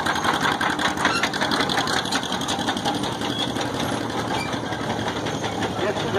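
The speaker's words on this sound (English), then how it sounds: "Next we have a John Deere, Tennessee, 1950, owned by Dan Wyman." A 1950 John Deere tractor engine runs in a tractor parade at an engine show, giving a loud, rapid, even chugging pulse that stays steady throughout, with a voice talking over it.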